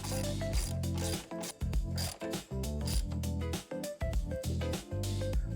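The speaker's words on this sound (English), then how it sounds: "Install and tighten the mounting bolt securely to ensure the counterweight is firmly attached." Ratchet wrench tightening the counterweight mounting bolt on the rear of a Maytag washer, a fast run of close clicking strokes in repeated bursts with brief pauses between them.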